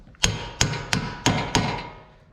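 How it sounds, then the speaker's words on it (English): Five loud metallic hammer blows on the outer tie rod of a 2012 Honda Civic at a steady pace, each ringing briefly before the next strike, close up with no talking. "Let me use a bigger hammer"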